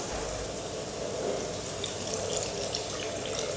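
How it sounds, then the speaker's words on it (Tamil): Water is poured into a pan of dried fish thokku masala as a steady, continuous splashing rush that stays even and close throughout. "இப்போ நம்ம இந்த கருவாடு தொக்குக்கு தேவையான அளவுக்கு தண்ணி ஊற்றிக்கலாம்."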